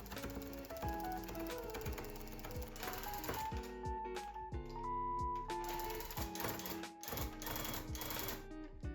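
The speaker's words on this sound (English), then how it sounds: "You may notice that I press the trigger button on the gun intermittently" Handheld tufting gun punching yarn into a rug backing, fired in intermittent bursts: a busy mechanical clatter with repeated short stops and restarts, close and steady in level with no talking.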